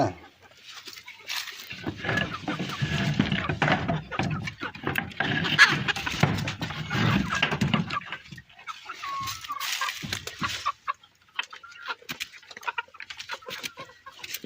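Chickens in a small coop clucking close by, several birds cackling and murmuring together, with quieter scattered clucks toward the end.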